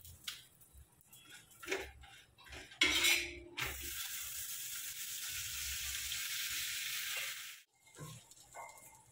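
Butter on a flatbread in a hot pan for paneer shawarma sets off a sudden loud sizzle that holds steady for several seconds, framed by clattering pan handling and utensil knocks before and after.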